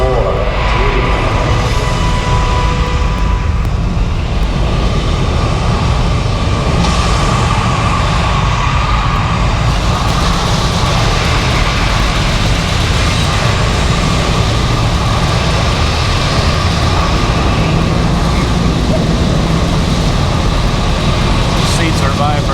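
A rocket launch simulation at a Florida space attraction delivers a loud, continuous low engine roar that rumbles steadily throughout, with voices speaking over it.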